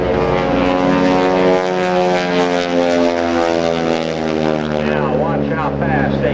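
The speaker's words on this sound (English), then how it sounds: "The Aeroshell T6 Texan." Aeroshell T-6 Texan propeller planes fly an aerobatic display at an airshow, a loud droning engine snarl with strong tonal harmonics that shift in pitch as they pass, with an announcer talking over it.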